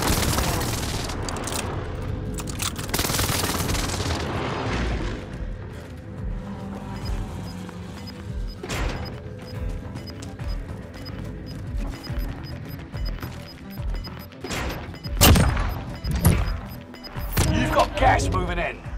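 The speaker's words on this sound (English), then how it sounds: "Enemy precision airstrikes." Precision airstrike explosions in Call of Duty: Modern Warfare, with loud booms and crashes recurring through a busy game soundscape, sharp blasts near the end, while a voice talks over the action.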